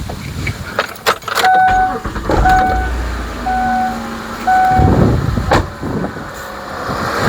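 A car is started after a jump from an AVAPOW 6000A jump starter. Keys jangle, short electronic chime beeps sound, and a low engine rumble cranks and catches.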